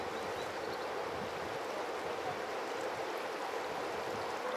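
A fast-flowing river in Finland rushes with a continuous, even hiss of moving water, moderately close and with no voices.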